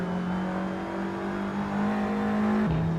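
A race car engine in a sim racing game at Thruxton holds a steady, loud droning note at high revs, then drops sharply in pitch near the end as the driver brakes and downshifts.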